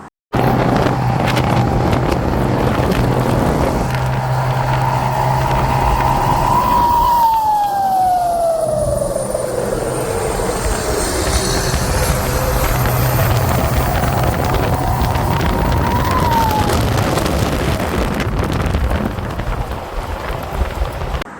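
A musical horn on a car at the Somchai Turbo shop plays long, sweet gliding tones that rise and fall in pitch, loud and close over a steady rumble of engine and road noise, with no talking.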